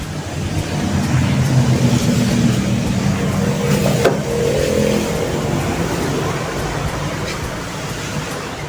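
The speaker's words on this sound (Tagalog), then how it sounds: "okay start na natin yung makina" A car engine with a 2E carburettor runs with a low steady rumble, briefly surging mid-way before settling back to a rough idle; loud and close.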